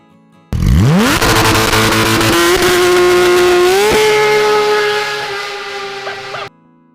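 A car in the Roblox video game starts up and drives off, its engine tone rising sharply, then holding a steady loud drone with one upward gear shift before cutting out; no talking.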